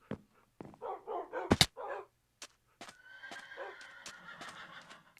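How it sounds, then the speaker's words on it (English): Horses in the video game Minecraft give several short, faint neighs and whinnies in quick bursts, followed by a softer run of snorting calls, with no talking. "Hello, horses. I hear you."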